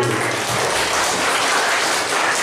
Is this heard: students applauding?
yes